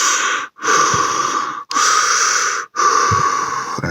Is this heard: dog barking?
no